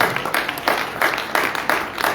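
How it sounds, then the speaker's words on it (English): A church congregation claps together during a fasting and prayer celebration service, producing a short burst of rhythmic, fairly loud group clapping with a steady beat, with no talk over it. "let's give the Lord a clap"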